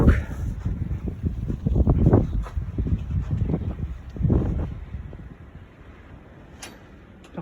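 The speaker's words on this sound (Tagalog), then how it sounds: "Lakas ng hangin talaga." Strong wind of a winter snowstorm in Saskatchewan, Canada, roaring in broadband gusts that swell and ease, loudest early and then tapering to a steadier lower rush, with no talking.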